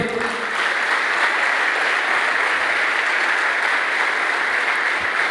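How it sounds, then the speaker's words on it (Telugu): An audience at a family achievers reunion training session gives a big round of applause, dense sustained clapping from many hands throughout, fairly loud and continuous. "ఒక్కసారి మీకు మీరు బిగ్ క్లాప్స్ ఇచ్చుకోరి"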